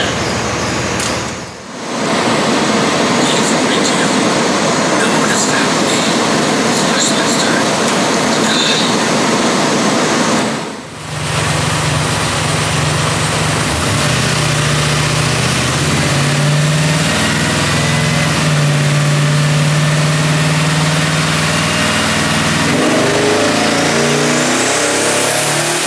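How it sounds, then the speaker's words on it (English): A twin-turbo LS engine in an all-wheel-drive GMC Syclone roars at sustained high revs on a linked dyno, a loud continuous drone with two brief dips, then a climbing pull before it winds down. "that was a true all-wheel drive pull with the dyno all linked up"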